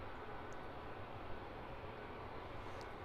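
A 31-year-old DHL Airbus A300 freighter pushes back at London Luton Airport, a steady low engine rumble and broadband roar heard at a distance, continuous and moderately quiet.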